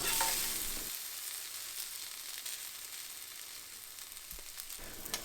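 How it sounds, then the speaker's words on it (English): Tofu and garlic sizzle steadily in a hot pan while being stirred, a continuous close frying hiss with a few scraping stir sounds, no voices. "Give that a nice stir, and then we can add back the tofu"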